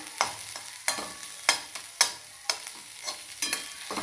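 Cumin and finely chopped garlic fry in a pan on low heat, a soft sizzle punctuated by regular sharp scrapes and taps of a spoon stirring roughly every half second, close by.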